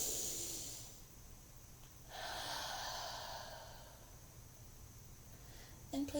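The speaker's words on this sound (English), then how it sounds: "take a deep breath" A slow, deep breath drawn in through the nose during a tarot reading session, followed by a long, soft exhale, close and quiet with faint background hiss.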